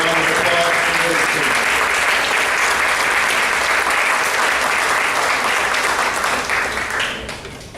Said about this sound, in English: Let's have a round of applause for those